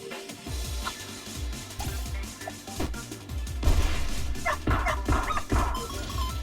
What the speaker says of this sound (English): They make puppy noises when I kill them.